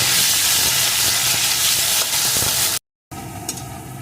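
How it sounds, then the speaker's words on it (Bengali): Cut potato pieces fry in hot oil with tempered spices, a loud, continuous sizzling hiss that breaks off briefly, then resumes more quietly with light crackles. "আলুটাকে লাল লাল করে ভেজে নেব"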